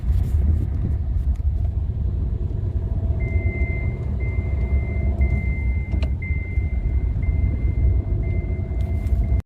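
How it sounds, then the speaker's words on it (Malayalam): A Tata Bolt drives with a worn rear right wheel bearing, giving a steady, loud low hum and rumble throughout, with a thin whine that joins partway through. "ഇതിൻ്റെ ഹൈവേയിൽ ഓടിക്കുമ്പോൾ ഭയങ്കര ഹമ്മിങ് നോയ്സാണ്, ഭയങ്കര മുഴക്കമാണ്."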